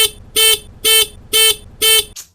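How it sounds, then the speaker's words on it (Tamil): A car horn honks four times in long, evenly spaced blasts, loud and close, followed by a quick short toot. "ஹாரன் அடிச்சு பார்ப்போம் என்ன பண்றான்னு பார்ப்போம்."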